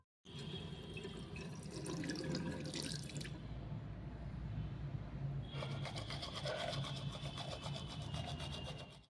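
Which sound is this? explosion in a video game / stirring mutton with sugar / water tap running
water tap running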